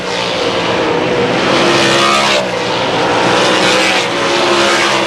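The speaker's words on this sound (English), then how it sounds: "good set of corners from Greg Foster as he launches off of 2" A race car driven by Greg Foster launches out of turn 2 at Susky, its engine roaring loudly and revving hard under acceleration, joined by other cars' engines in a continuous, close roar.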